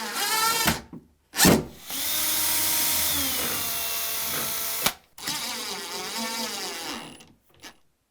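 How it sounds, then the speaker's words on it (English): A power drill pre-drilling wood whirs in several bursts, revving and slowing with short pauses between runs, close and loud with no talking. "And I can pre-drill in here, right in the center of that hole."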